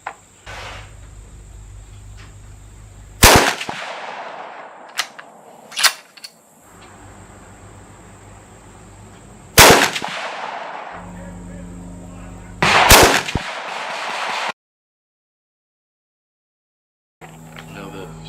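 6mm Creedmoor rifle shots during a 100-yard ammunition test: four loud, sharp reports spaced several seconds apart, each with a short echoing tail, over a low background hum.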